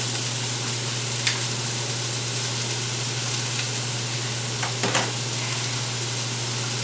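Tomatoes and vegetables fry in hot oil for a vegan garden-vegetable pasta, a steady close sizzle running throughout with a few sharper pops and spatters near the end.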